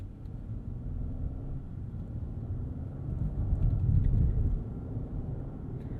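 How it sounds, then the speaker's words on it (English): A 2026 Genesis G90 twin-turbo flagship sedan pulling away from a stop in chauffeur mode, heard from inside as a low, muffled engine rumble that swells gradually, peaks, then eases back as the gear changes. "we'll do a takeoff here in chauffeur mode"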